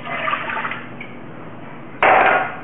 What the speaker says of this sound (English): I'm using my little pot filler here that is an indispensable tool